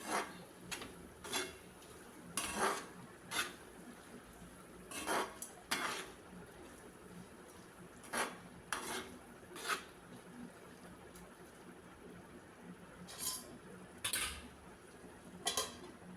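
Prawn roast being stirred in a cooking pan, a spoon scraping and clinking against the metal in scattered, irregular strokes, fairly quiet and close with no talk.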